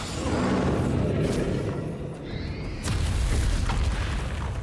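Bombarda spell explosion in Hogwarts Legacy, a dense roaring blast that fills the whole clip with a brief dip midway before a second heavy boom.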